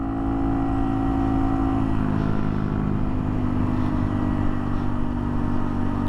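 A Honda Monkey motorcycle fitted with an ARACER controller, ridden in third gear: a close, steady engine drone that holds an even pitch throughout, with no talking.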